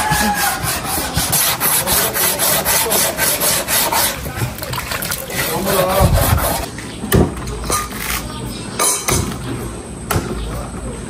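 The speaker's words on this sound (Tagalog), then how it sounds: "Hinahasa po ni Bossing yung itak at matalab na daw po." A bolo knife is rubbed against a sharpening stone in steady, repeated rasping strokes for several seconds, close and fairly loud, with some background noise and a splash near the end.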